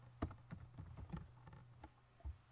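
Keys clatter on a computer keyboard as an email address is typed, a quick irregular run of close, sharp clicks over a low steady hum, with a firmer tap near the end.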